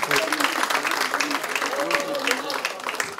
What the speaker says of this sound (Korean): 의원님들 모두 두 분의 노고에 대해서 힘찬 박수로 격려해 주시기 바랍니다